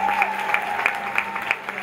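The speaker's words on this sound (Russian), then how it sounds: "Давайте Светлане Хоркиной поаплодируем отдельно." KVN audience in Tula claps for Svetlana Khorkina in a quick, even rhythm of unison beats, about three per second, over a dense crowd hum, with a brief tone at the start.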